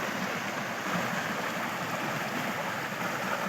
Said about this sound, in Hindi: माशाल्लाह जी कितना सोहना पानी बह रहा